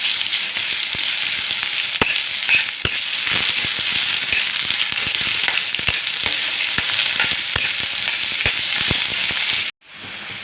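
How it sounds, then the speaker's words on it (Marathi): Chopped onion fries in hot oil in a loud, dense, continuous sizzle with crackling pops close up, cutting off abruptly near the end. "आपला कांदा असा लालसर भाजत आलेला आहे"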